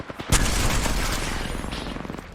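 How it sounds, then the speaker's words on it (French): Video game gunfire erupts in a dense, loud burst of rapid shots and booms that keep rattling on, without talk. "Je suis sous le feu."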